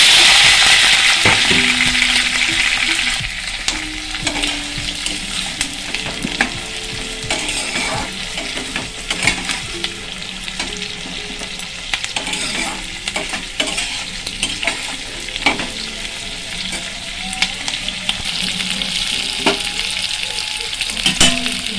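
Chilli chicken masala with chopped ginger, green chillies and onion is frying and being stirred in a pan, giving a steady sizzle with repeated scraping and stirring strokes throughout.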